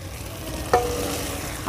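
Eggs dropped into cooked curry masala in hot oil give a steady, close sizzle, marked by one brief clink or splash partway through.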